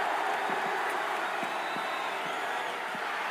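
A video-game wrestling arena crowd in WWE Smackdown vs Raw 2007 roars as a continuous, dense wash of cheering with scattered thumps underneath during a hardcore match.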